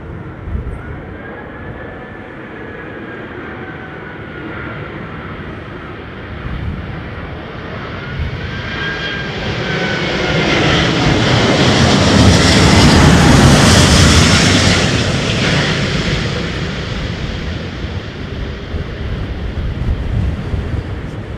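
Airliner jet engines at London Heathrow Airport roar under thrust, a broad, loud rumble that swells to a peak midway and then slowly eases, with a faint whining tone drifting above it.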